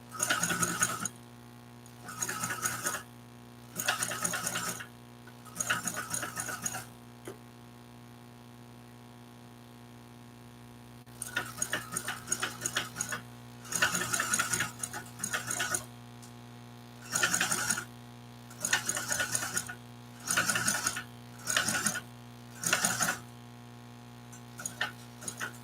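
Sewing machine stitching a bag, close and fairly quiet, running in repeated short bursts of rapid ticking over a steady electrical hum, with pauses between runs.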